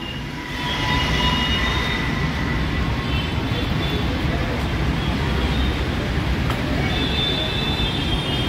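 A metro train runs past near Habsiguda metro station, a steady rumbling roar with a faint high whine, heard outdoors from close by with a voice in the background.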